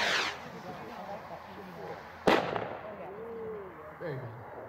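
An Air Warrior model rocket launches at a demonstration event with one sharp, loud ignition pop followed by a fading whoosh, then quieter outdoor background.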